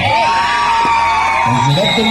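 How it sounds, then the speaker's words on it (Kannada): Spectators at an under-21 kabaddi final in Karnataka cheer and whoop continuously, a steady crowd roar with shouts rising throughout, loud and close. "ಪ್ರೇಕ್ಷಕರ ಚಪ್ಪಾಳೆ ಮಾತ್ರ ಬರ್ತಾ ಇದೆ"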